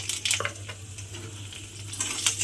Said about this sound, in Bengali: প্রথমে আমি দেব অল্প সামান্য একটু কালো জিরে ফোড়ন দিলাম, আর দেব এখানে 2টো চেরা কাঁচা লঙ্কা